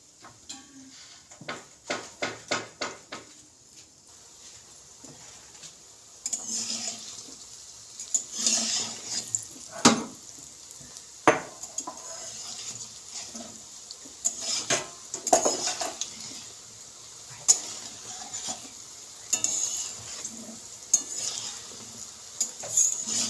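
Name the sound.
frying nolen gur rosh bora in a kadai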